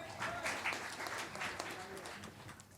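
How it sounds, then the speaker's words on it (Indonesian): Audience applause at a comedy roast show, a dense wash of clapping held steady throughout with faint background voices mixed in, moderately distant. "Tepuk tangan semua."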